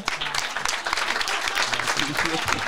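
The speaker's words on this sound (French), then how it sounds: "On applaudit Roman." A studio audience on a French radio show applauds a 15-year-old intern, a dense burst of clapping from many hands at close range, with voices speaking over it.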